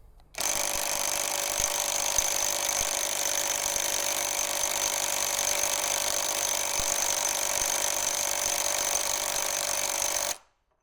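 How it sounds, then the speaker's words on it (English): An Ingco cordless impact wrench in nut bust mode working on a nut, a loud continuous hammering drone held steadily for about ten seconds before cutting off abruptly. "Now I just want to try and engage the nut bust feature and see if it does boost it at all"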